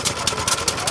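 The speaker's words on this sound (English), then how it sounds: "hopefully the engine will fire, and off we will go." Small engine on a pedal-started racing tricycle at a 2014 Dunsfold tricycle race fires up, giving a rough, rapid pulsing chug up close, with a breathy, noisy texture.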